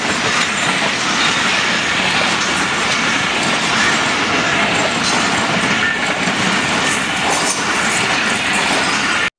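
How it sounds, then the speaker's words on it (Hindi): A train rolls in with a steady, loud rumble and the rhythmic clickety-clack of rail cars, a faint wheel squeal running underneath throughout. "ट्रेन आ गई है।"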